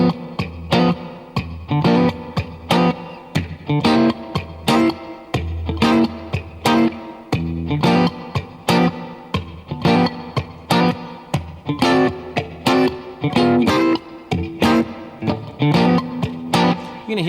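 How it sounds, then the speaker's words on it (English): Electric guitar plays a blues lick built on a 7th chord hammer-on, with repeated rhythmic strums and reverb, distorted and chorus-tinged, heard alone without talking. "First one is this little 7th chord hammer-on."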